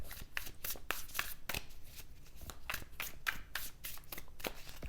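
A deck of spirit oracle cards being shuffled by hand, a steady run of crisp riffling slaps and soft card rustles repeating close up with no talking.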